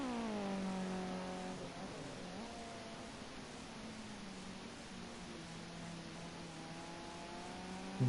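A red Mitsubishi race car in Project Cars 2 holds a steady engine drone, dropping in pitch early and then running level, with a faint rhythmic ticking above it and no talk.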